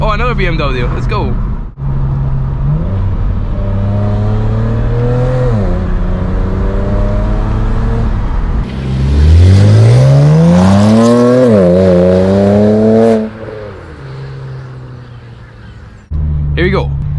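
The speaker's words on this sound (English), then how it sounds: "First drive with a new exhaust setup from VRSF" BMW fitted with a VRSF exhaust accelerating from inside the cabin, engine note climbing through gears with a loud rising rev around the middle, then easing off; people talk over it.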